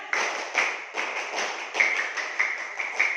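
Schoolchildren in a classroom doing the tepuk semangat spirit clap again, repeated crisp claps in a regular rhythmic pattern, close and lively, with no talking over them.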